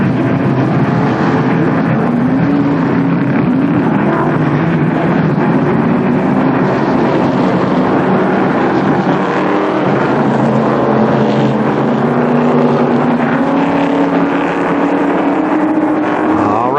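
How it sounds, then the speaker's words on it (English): Race cars roar down the front straightaway at Columbus Motor Speedway during a 1998 race, a loud, continuous engine drone that stays dense and sustained for the whole stretch without speech. "the cars as they come down the front straightaway"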